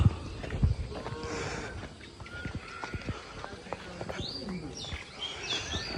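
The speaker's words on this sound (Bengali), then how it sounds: "মহিষ সন্ধ্যা হয়েছে এখন মহিষগুলা গোয়ালে ফিরে আসছে গরুগুলো আস্তে আস্তে গোয়ালের দিকে যাচ্ছে" Buffaloes and cows heading back to the cowshed at dusk in a rural village, with occasional lowing moos, hoof clops and birds, heard outdoors at a moderate distance while people talk nearby.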